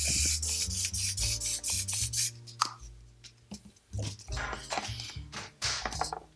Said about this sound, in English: Now I'm going to spray some setting powder on that area